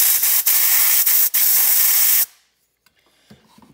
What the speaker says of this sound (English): And then I use compressed air.